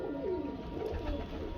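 Pigeons of the Lakha breed coo steadily at a breeder's loft, a low rolling murmur close by with soft overlapping calls and no talk.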